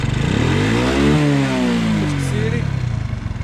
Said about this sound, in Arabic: قبل ما ندوز للرويد ونديماري تنجي هنايا تنشوف الصوت ديال الماكين